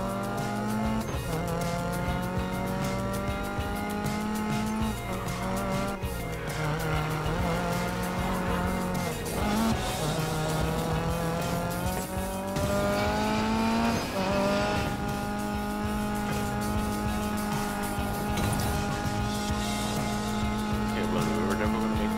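A Volvo Amazon races along mountain roads in Need for Speed Payback, its engine tone rising and falling through gear changes, with tire squeal, under continuous in-game sound; no talk is heard.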